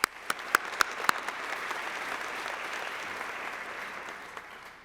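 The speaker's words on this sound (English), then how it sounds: "If I can just give them a round of applause" Applause from an audience at the ATHENA awards ceremony honoring volunteers, opening with several sharp distinct claps that swell into a steady sustained round of clapping before tapering at the end.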